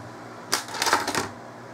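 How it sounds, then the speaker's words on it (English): Rapid burst of computer keyboard typing while entering fastboot commands, a cluster of crisp clicking keystrokes lasting under a second, close and fairly loud, with no talking. "So we're going to type in"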